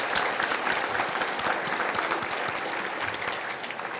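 A room of attendees at a chamber of commerce award event clap for sponsors, a continuous even wash of applause from many hands, moderately distant and steady throughout.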